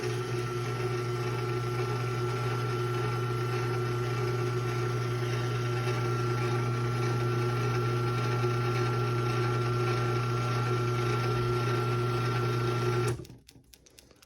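A Craftsman 139.53876 garage door opener motor running, a steady loud electric hum with a strong constant drone and mechanical whir, continuous for about thirteen seconds before abruptly cutting off.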